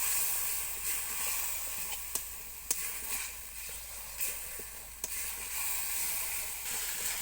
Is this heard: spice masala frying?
yes